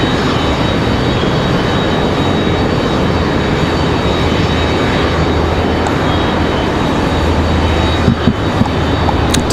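An airplane arriving at Raleigh Durham International Airport makes a loud, continuous broadband engine roar that stays steady throughout. Wind noise thuds against the microphone near the end, and no one speaks.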